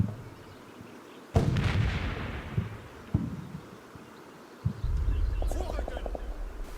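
Infantry gun shots in the Combat Mission: Battle for Normandy wargame: three sharp, loud blasts roughly one to two seconds apart, each trailing into a rumbling echo.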